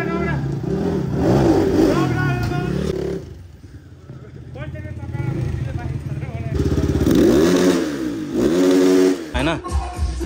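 A Honda CX250R motorcycle with a Keihin race carburettor revving nearby, its engine rising and falling through repeated throttle blips with a quieter idle dip midway, while someone talks over it.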